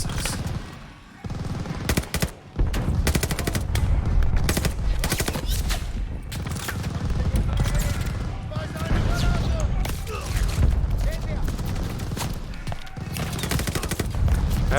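Gunfire in Call of Duty: Vanguard, dense, continuous rapid automatic fire and explosions running almost nonstop at high volume for about fifteen seconds, with a voice talking underneath.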